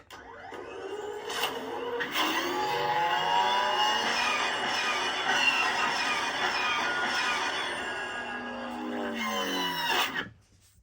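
A Star Wars speeder bike effect from a lightsaber gives a steady, buzzing engine-like roar with rising tones that holds for about ten seconds, then cuts off. It plays alone and fairly loud.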